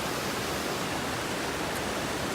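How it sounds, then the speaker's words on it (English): Water flows in a steady, dense rush at a silent meditation retreat, loud and continuous, with no voices. "if you listen to the water right now"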